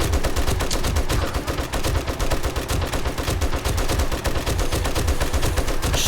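In the video game 7 Days to Die, dense automatic gunfire rattles nonstop into a zombie horde, a loud, continuous burst of rapid shots with no pauses.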